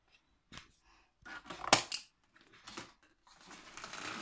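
Genesis gaming keyboard box packaging being opened during an unboxing: close crinkling, tearing and scraping of cardboard and plastic in short irregular bursts, with no talking.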